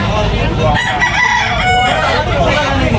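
A rooster crows loudly and close by over constant rough background noise, with faint hen clucking mixed in.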